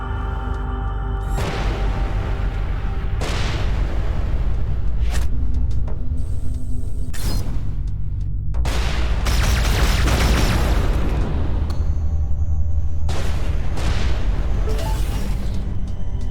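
Bomb thrower explosions in Everspace 2 space combat: a series of loud booming blasts, each bursting then rumbling away, spaced every few seconds over steady low ship drone, with no voices.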